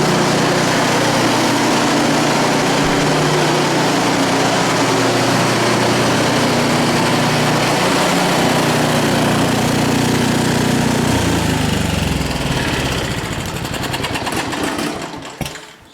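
A snowblower engine runs loud and close during winterizing, with fresh gas and Seafoam added, a steady rattling mechanical drone that holds for most of the stretch before shifting and fading near the end.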